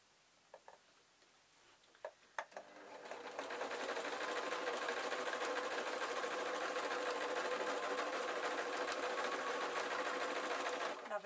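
A sewing machine stitches a leg onto a spider soft toy, starting after a few soft clicks and then running steadily and close up until the end.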